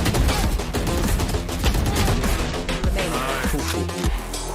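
Emphasized video game gunfire with added effects, a dense loud barrage of overlapping shots and bursts layered over driving music, continuous throughout.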